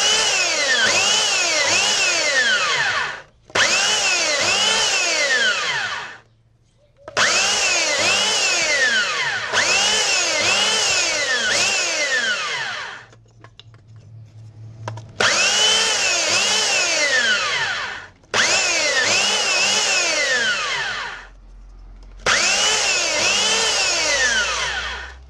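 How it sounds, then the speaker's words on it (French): Power sander working on a military diorama bunker piece, running in loud bursts of several seconds each with short pauses between, close and alone with no talking. "on va passer à la phase qu'on préfère, le ponçage."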